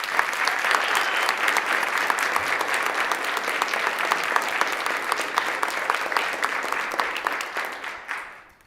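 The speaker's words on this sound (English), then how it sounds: "help me give her a round of applause to celebrate her birthday" A state assembly chamber fills with a sustained round of applause honoring a member's birthday, dense and steady before tapering off sharply at the end.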